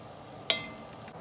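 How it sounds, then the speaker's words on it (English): Bacon frying in a pan makes a soft continuous sizzle, with one sharp crackle or pop partway through. "let's get that bacon in"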